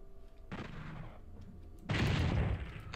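Two shotgun blasts in DooM 64, each a broad noisy burst, the first moderate and brief, the second louder and sustained with a rumbling tail, set against quiet game ambience.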